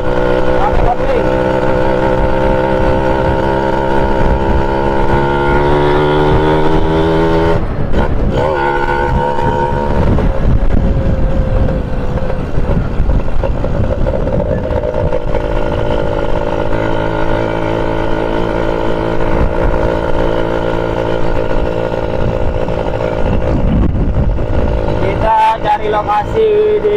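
A 1997 Yamaha F1ZR clutch-equipped motorcycle on a test ride through rice fields: a loud, close, continuous engine drone whose pitch climbs and drops in steps with gear changes and throttle shifts.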